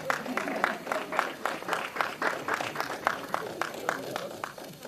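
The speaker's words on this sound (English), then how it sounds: "Please give him an applause as he comes up." Audience applause at a journalists' awards ceremony as a presenter comes up, scattered claps in a loose irregular rhythm, moderately loud with crowd murmur underneath.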